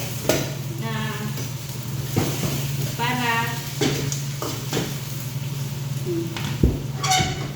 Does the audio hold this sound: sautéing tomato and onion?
yes